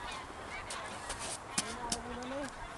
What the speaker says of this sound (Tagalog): ang dami yung itik na sinasabi mo